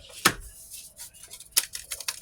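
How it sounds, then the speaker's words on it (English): A sharp snip of scissors, then a few lighter cuts and rustling of a packet, close up in a quiet room. "I'm going to grab me a pair of scissors real quick to open it"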